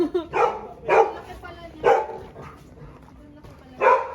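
A dog barks four times in short, sharp bursts close by, with small sounds between the barks.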